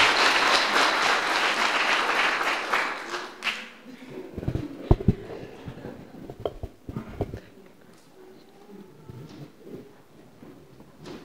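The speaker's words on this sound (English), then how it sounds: "So let's give these guys a round of applause." Families at a Cub Scout Pack 49 Blue and Gold ceremony give a round of applause for boys earning their Bobcat badge. The clapping is full for about three seconds, then fades into a few scattered claps, taps and shuffling.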